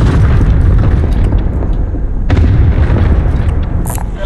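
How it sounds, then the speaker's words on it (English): Allied cluster strike in a first-person shooter game, heavy rumbling explosions rolling continuously with a sharper blast partway through, loud and close, no talking over it. "Allied cluster strike arriving"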